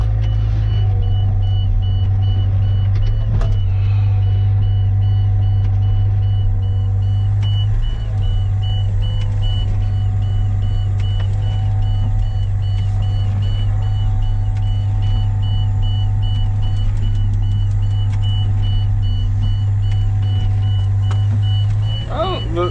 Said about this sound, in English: That's never been beeping before.